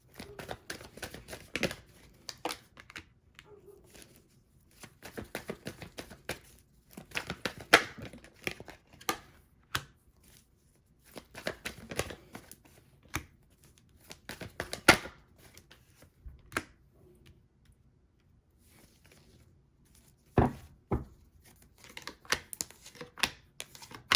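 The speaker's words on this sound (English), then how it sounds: "Y'all just saw me shuffle and look what came back out." Tarot cards are shuffled close up in irregular bursts of soft riffling, slapping and crinkling, faint and intermittent, with no talk heard.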